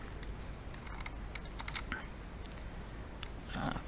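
Computer keyboard keys pressed during a Ctrl C copy, a few scattered clicks and taps close to the microphone, quiet and alone with no talk.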